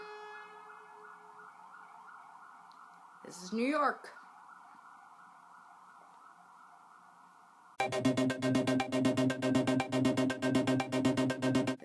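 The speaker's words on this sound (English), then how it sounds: "Waiting for a siren." A siren wails briefly over a steady droning tone in a New York street. Then a loud, rapidly pulsing blare takes over and continues.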